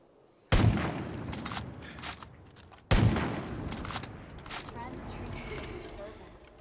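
Two sharp, loud gunshots from Far Cry 5, each hitting hard and trailing off into a rumbling tail with scattered game sounds. The second shot comes about two seconds after the first.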